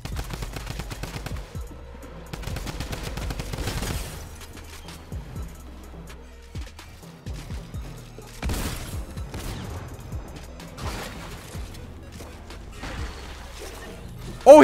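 Rapid bursts of drum gun fire in a Fortnite match, loud repeated volleys with short pauses between them over game ambience and crashing impacts.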